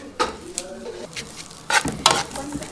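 A pot of food being stirred until golden, with a few scraping, clinking stirs and a soft sizzle of frying, close and fairly loud, with no talking.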